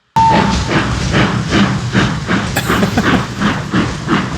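A steam train in a 1984 film chugs steadily with rhythmic puffs and a hissing undertone, wheels clattering on the rails, loud and close, no voices.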